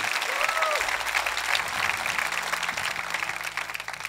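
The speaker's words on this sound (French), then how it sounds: "voulez-vous applaudir la grâce" A church congregation applauds, a steady wash of clapping from a crowd heard at moderate volume with some voices underneath.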